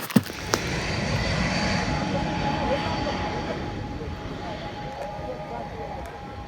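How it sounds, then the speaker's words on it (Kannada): An airplane arriving at Kalaburagi airport gives a broad, steady roar that slowly fades, heard from a distance with faint voices nearby. "ಯಾವುದೋ ಒಂದು ಫ್ಲೈಟ್ ಬರ್ತಾ ಇದೆ ಅಂತೆ"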